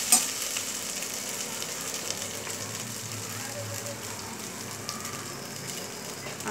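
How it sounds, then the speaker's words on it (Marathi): Ginger garlic paste and cumin frying in a pan make a loud, steady, close sizzle that crackles evenly throughout with no pauses and no talking. "अद्रक आणि लसणची पेस्ट व्यवस्थित फ्राय झालेली आहे।"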